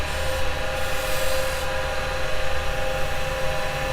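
Carbide chisel cutting a small chamfer into a side-grain wooden pen pot spinning on a woodturning lathe, a steady continuous scraping rasp over the constant motor hum, close and even throughout.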